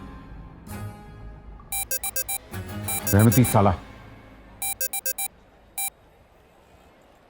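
A phone rings in short repeated electronic bursts, two clusters of quick beeps and then a single one, while someone speaks briefly between them.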